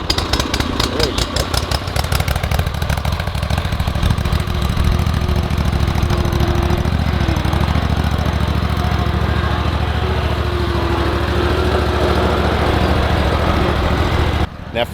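A Bad Boy ZT Elite zero-turn lawn mower engine runs loud and steady close by, a constant mid-pitched drone with a faint rising whine, cutting off abruptly at the end.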